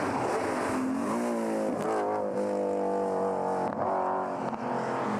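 A BMW M3 GTR race car at speed on the Manfeild circuit during a BMW race series event, a loud sustained engine roar that rises and shifts pitch as it passes close by, with no talk over it.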